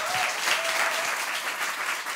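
An audience in a town council chamber bursts into sustained, dense applause after a vote passes, with the clapping holding steady throughout, loud and continuous, with no speech.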